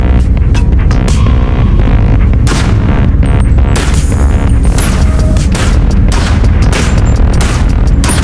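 Gunfire in the VR video game Bonelab, loud dense bursts of shots and booms packed tightly together with a constant throbbing roar underneath, no pauses throughout.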